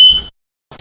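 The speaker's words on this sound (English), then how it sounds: "she blew it directly at the smoke detector" A single sharp, high electronic beep from a smoke detector sounds loud and close, then stops abruptly, followed by silence and a faint rustle at the end.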